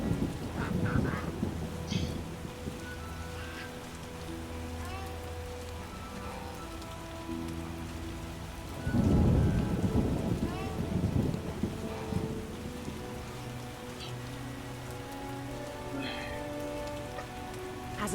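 Rain patters steadily in The Witcher video game while thunder rolls once in a heavy burst midway, with faint game sounds scattered over the downpour.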